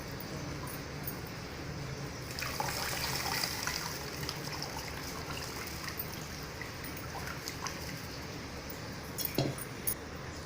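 Tamarind squeezed and rinsed by hand in a bowl of water, a soft continuous sloshing and trickling with faint clinks of a vessel, close and quiet with no talk.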